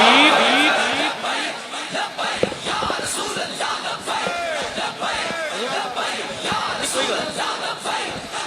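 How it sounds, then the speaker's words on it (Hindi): A large crowd at an outdoor religious gathering in Tandli roars a loud, sustained collective slogan response to the Nara-e-Takbir call, the massed shouting swelling and rising together over several seconds. "मैं नारा लगाता हूँ, आप जवाब दीजिए। नारा तकबीर।"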